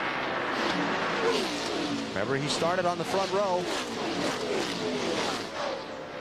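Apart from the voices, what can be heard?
NASCAR race car engine at Atlanta Motor Speedway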